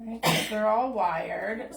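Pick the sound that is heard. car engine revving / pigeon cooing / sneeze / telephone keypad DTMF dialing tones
sneeze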